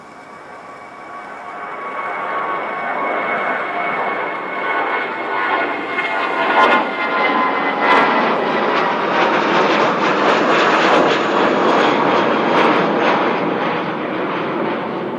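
A fixed-wing airliner departs Christchurch Airport in possible crosswinds, its engine roar building from a distant rumble into a loud, sustained broadband drone with a few sharp crackles, and no voices.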